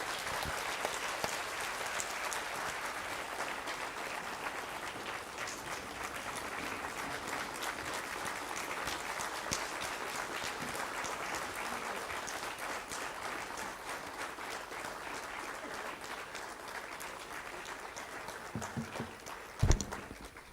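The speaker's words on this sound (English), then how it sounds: "let us applaud him once more for this wonderful job" A scientific session audience applauds a speaker at length, a dense, steady wash of clapping that continues for about twenty seconds before a sharp thump near the end.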